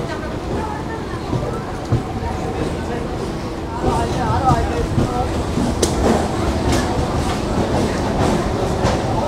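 A local passenger train pulling into Namkhana station, rumbling and clattering steadily over the rails with rising wheel noise and squeals midway, under constant background activity.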